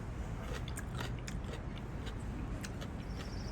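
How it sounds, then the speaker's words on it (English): Crunchy deli pickle bitten and chewed close up at a Jewish deli in Oakland, a run of crisp, wet crunches over a low room hum, with no talking. "let me try the pickle here"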